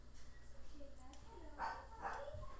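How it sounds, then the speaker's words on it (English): A pet dog barks twice indoors, short muffled yaps a little apart from a nearby room, faint behind background noise. "Sorry about my dog there."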